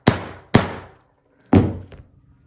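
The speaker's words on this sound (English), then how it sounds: "You're gonna just put it on there and whack it with a hammer a few times." Three sharp metallic hammer strikes on a snap setting tool, fixing snaps to a shirt jacket, two in quick succession then a third after a pause, each ringing briefly before fading, close and loud.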